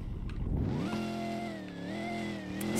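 A Dodge Charger SRT8 engine revs up and holds a steady, rising-and-falling roar close by, running continuously without any voices over it.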